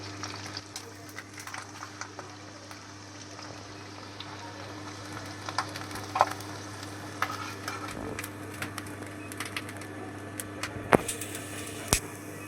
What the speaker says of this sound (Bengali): আরেকটা পাঁপড় ভেজে দেখিয়ে দিচ্ছি